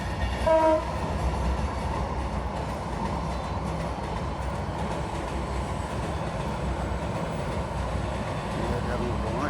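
A Bangladesh Railway train rumbles past nearby the Gomti river in Cumilla, with a continuous low roar and rhythmic rattling, a short horn-like tone near the start.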